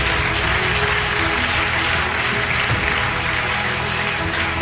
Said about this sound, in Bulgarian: Нека кажем слава на Бога и да пляскаме на Господа.